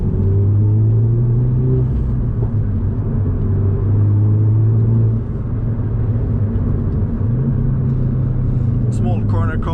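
A Renault Megane R.S. Trophy-R drives with a loud, steady engine drone and road rumble throughout, pitch shifting slightly as it changes speed, under a person talking.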